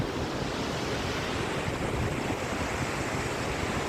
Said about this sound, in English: The Gokak Falls is a wonderful waterfall located on the Prabha river in Belgavi district of Karnataka, India.